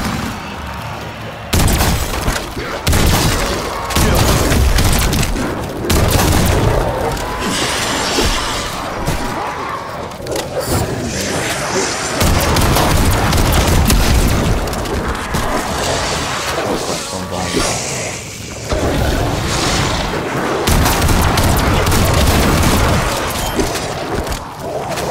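Frag grenades and gunfire boom through Call of Duty Cold War zombies, with loud, dense blasts and crashes rolling almost nonstop, pausing briefly twice.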